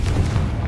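Confringo fire spell blast in Hogwarts Legacy, heard as a low, rumbling boom that holds steady for under a second with no voices over it.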